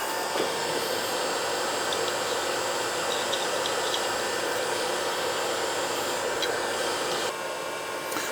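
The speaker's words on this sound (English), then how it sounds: "we're going to heat this with a hot air gun. Okay, hot air gun to heat the casting a little bit." Hot air gun blowing on a metal casting for a pulley on a Deckel high-speed milling head, a loud, steady fan-driven roar of rushing air that runs unbroken for about eight seconds and drops slightly near the end, with no speech.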